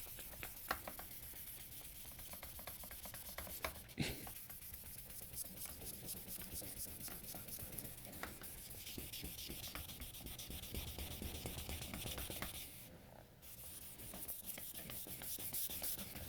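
A Moritaka gyuto kitchen knife is stroked across a 3000 grit whetstone, giving a close, continuous rubbing and scraping with steady back-and-forth strokes, a couple of brief clicks and one short pause.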